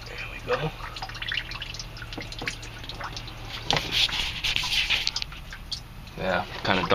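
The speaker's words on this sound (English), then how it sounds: "You hear water dripping, that's just coming in the drain there." Water drips and trickles into the bilge drain of a 1986 Grady-White Seafarer 22 boat, a close, irregular patter of small drops and splashes, with a steady low hum underneath.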